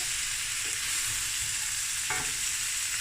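Head-on prawns sizzling in a hot pan as they are stirred, a steady frying hiss broken by a few soft scrapes and clinks of the spoon against the pan.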